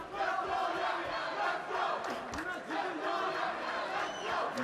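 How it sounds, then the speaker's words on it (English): Arena crowd at a UAE Warriors MMA event roaring and chanting for champion Mohamed Yahya, a dense, continuous wall of voices with rising shouts. "You see the crowd cheering on Mohamed Yahya."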